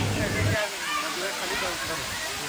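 The waterfall at Rautwadi near Radhanagari Dam, Kolhapur, gives off a loud, constant roar of rushing, crashing water, close by and unbroken, with people's voices faintly mixed into the torrent.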